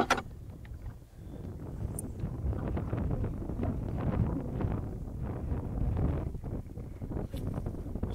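Strong wind on a small lake during a fishing trip by boat buffets the microphone in a steady, roaring rush that lasts the whole stretch, with no voices.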